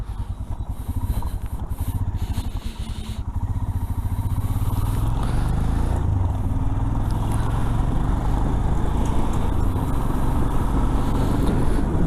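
A Royal Enfield Himalayan motorcycle riding through pouring rain in Nepal, its engine droning steadily and loudly, building in intensity after a few seconds, with rain and road noise blended in and no talking.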